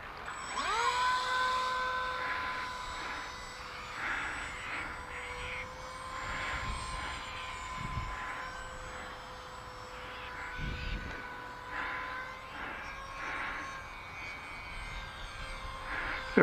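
A radio-controlled model airplane drones overhead, its small engine whining in a steady tone that rises and falls as it flies past, with faint wind and handling noise and no talk.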